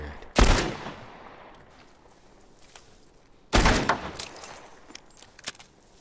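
Gunfire in the video game The Last of Us Part I, two loud sharp shots a few seconds apart, each ringing out into a decaying tail, with faint game noises in between.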